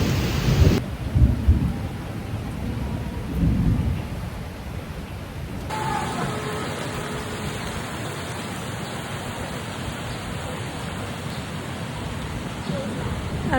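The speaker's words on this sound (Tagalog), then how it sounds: "Nabutan na ako ng ulan dito sa isang house." Heavy rain pours steadily in Hanoi, Vietnam, with low rumbles of thunder rolling near the start and again around the midpoint, a constant dense hiss throughout.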